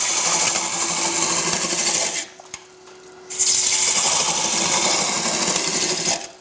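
Wood lathe turning a carver's mallet handle as a roughing out gouge takes off wood: loud, rough scraping and rasping that stops for about a second, leaving a quiet hum, then resumes.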